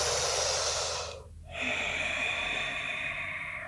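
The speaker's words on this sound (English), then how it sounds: "Take one more full deep inhale and exhale here." One slow, deep breath close to the microphone, a long airy inhale, a short pause, then a long, steady exhale that fades gently, with no speech.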